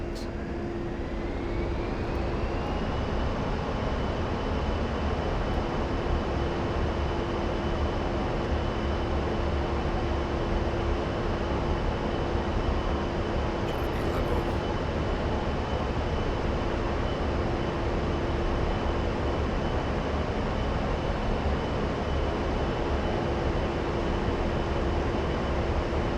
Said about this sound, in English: Now let's accelerate by advancing the throttles back to max.